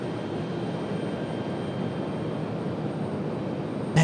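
Southwest jet airliner at Raleigh-Durham International Airport, a steady broadband engine roar at moderate distance, holding even throughout with no voices.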